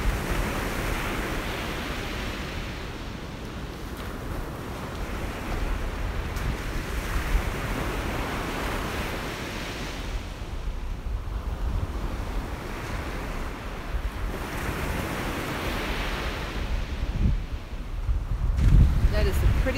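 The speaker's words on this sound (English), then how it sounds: "let's just take this last minute to soak in the sounds of the waves" Ocean waves wash onto a beach in slow recurring swells of broadband surf, steady and moderately loud, with some wind buffeting the microphone.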